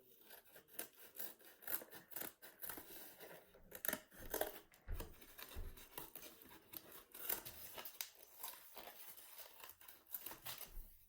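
Scissors snipping through paper or cardboard to cut out shapes for a collage, a steady run of close, quiet crisp snips and rustles with no talking.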